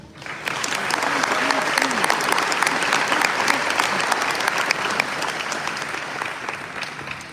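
Sustained applause from an audience welcoming Mr. Jay H. Smith at a school ceremony, a dense, steady clapping that swells quickly and holds for about seven seconds, with a few voices briefly audible underneath.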